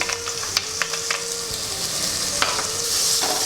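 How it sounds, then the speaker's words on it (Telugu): About 15 to 20 cashews sizzling and frying in a pan for a chicken curry, with steady bright sizzle and occasional stirring clinks, close and continuous with no talking. "ఒక 15 నుంచి 20 జీడిపప్పు వేస్తున్నాం."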